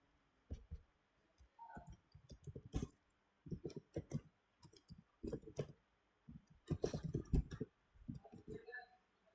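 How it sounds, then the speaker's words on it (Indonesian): Java program code is typed on a computer keyboard in bursts of quick, close clicking keystrokes, separated by short pauses, faint and with no talk over it. "Jadi saya akan mengetik programnya dari awal sambil menjelaskan setiap bagian-bagiannya."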